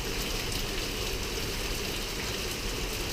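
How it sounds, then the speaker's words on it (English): Heavy rain pours down steadily during a July flood in Abilene, Texas, a dense, even hiss of water with no pauses or variation, filling the whole stretch without any voices. "It just now starting to pour again."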